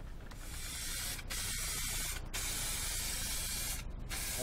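Lacquer finish hisses from a spray can onto a wooden platter in a steady close-up stream, broken by a few brief pauses between passes.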